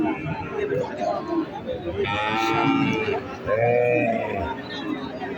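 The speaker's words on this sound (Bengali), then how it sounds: "সামনে একটি গাই গরু দেখা যাচ্ছে" Native deshi cows mooing at the Abadpukur cattle market in Naogaon, Bangladesh, with two drawn-out moos close by over a steady background of crowd chatter and people talking.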